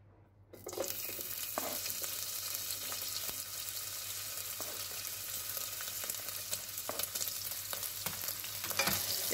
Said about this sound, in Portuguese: E aqui nós vamos iniciar nossa fritura então do bacon.